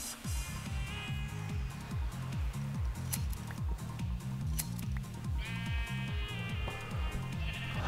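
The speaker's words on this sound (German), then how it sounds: "Da hinten sind noch einige Schafe." Sheep in the Minecraft video game bleat repeatedly near a village, a rapid run of overlapping baa calls, loud and close, with no speech over them.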